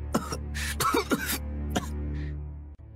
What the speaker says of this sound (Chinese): 陈王忽然剧烈的咳嗽起来